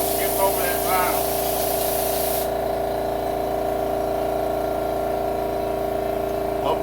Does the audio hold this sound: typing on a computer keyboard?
no